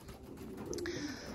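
Pigeons coo softly inside a pigeon loft under renovation, a faint, low murmuring call rising and fading over a quiet background, with a brief higher chirp near the end.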